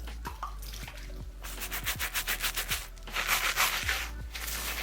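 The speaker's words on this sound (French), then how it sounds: "Je vais rajouter de l'eau." Wet hands work Lidl beard shampoo into a lather as water is added, giving close squelching, rubbing strokes in a rapid rhythm with occasional dripping.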